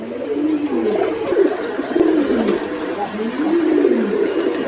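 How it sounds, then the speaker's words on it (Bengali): Pigeons coo in a steady series of low, rolling calls, close by, with a faint background murmur. "এখানে যে কবুতরগুলো দেখতে পাচ্ছেন সাথে বাচ্চা আছে"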